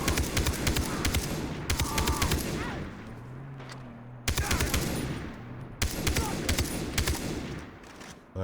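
Gunfire in the video game Far Cry 3: loud rapid bursts of automatic fire, a quieter pause, then more sharp volleys and single shots close up.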